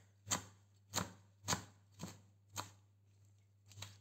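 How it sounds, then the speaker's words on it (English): Knife chopping squeezed zucchini on a board, six crisp evenly spaced chops over about four seconds, close and fairly loud, against a steady low hum, no talk. "Just roughly chop it."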